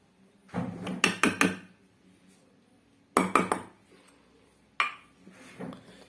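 Cake flour mixture is mixed in a bowl with a utensil, producing clustered bursts of clinking and scraping strokes against the bowl, separated by quiet pauses, close and moderately loud.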